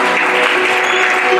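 A church congregation bursts into dense, loud applause acclaiming the Lord during a youth seminar service, a continuous wash of many hands clapping together.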